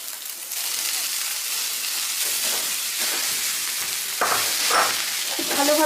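Soybean chunks sizzle and hiss loudly after being added to a pan of fried spice masala whose oil has separated, a steady dense crackle with stirring scrapes that grows louder near the end.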